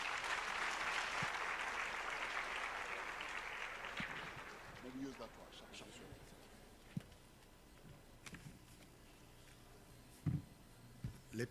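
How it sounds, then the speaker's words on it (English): A crowd at a youth empowerment event applauds the advocate, dense clapping for about four seconds that fades out, followed by scattered bumps and a voice speaking in a quieter room. "Let's give the advocate a round of applause"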